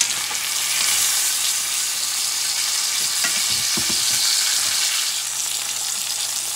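A lean bison porterhouse steak frying in a hot pan, a loud continuous close sizzle with a low hum underneath and a few brief knocks and scrapes partway through, no talking.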